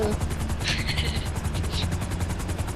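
A helicopter in the video game GTA 5 thumps with rapid, evenly spaced rotor beats, loud and close throughout, with faint crackles like distant gunfire mixed in.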